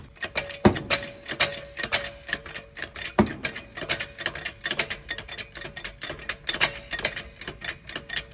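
A jack ratchets under a 2008 Ford Fusion SEL to raise the engine during an engine mount replacement, giving a fast, steady series of close mechanical clicks with a couple of heavier clunks.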